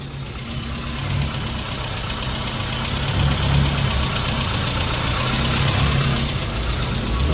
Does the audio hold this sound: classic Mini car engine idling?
yes